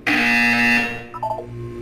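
A loud electronic buzzer from the video game Portal 2 sounds once, a steady harmonic tone holding for about a second before a few fainter beeping blips trail off alone.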